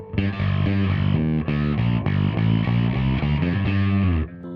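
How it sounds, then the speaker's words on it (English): Lakland 4401 bass guitar played through a modeled MXR bass DI effect, a thick, distorted and fizzy sustained line of notes ringing loud and continuous, with no talking over it. "I tried this last one, which models an MXR bass DI."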